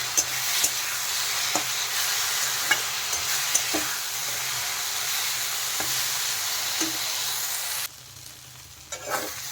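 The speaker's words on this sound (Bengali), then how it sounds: "সর্ষে বাটা দেওয়ার পরে আর একটু নেড়ে দেবো।" Kochur loti (taro stolons) coated in mustard paste sizzles in a pan with a steady close fry and occasional spoon scrapes, and the sizzle drops noticeably near the end.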